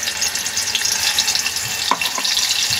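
Ground masala paste fries in hot oil with cumin seeds, giving a steady, close sizzle with small crackles and spits throughout.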